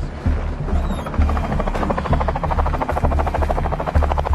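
Helicopter in a thriller film, a loud, close, steady rotor chop beating in rapid even pulses over a deep engine drone, with no voices.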